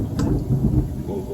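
A low rolling rumble of thunder fills the clip, steady and fairly close, with a brief brighter crack near the start.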